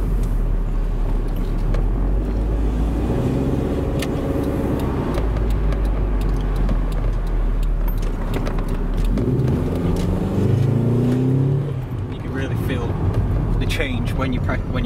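An automatic Toyota MR2 MK2 with the power mode button engaged accelerates hard, its engine note rising and falling in a steady drone with a shift-like dip midway, heard from inside the car.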